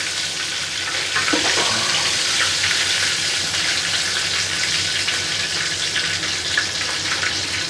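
Zinger burger chicken pieces deep-frying in hot oil after about seven minutes, a steady close hiss and crackle of bubbling oil with faint intermittent pops, no voices.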